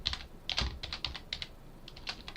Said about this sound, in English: it's because I'm not looking what I'm actually typing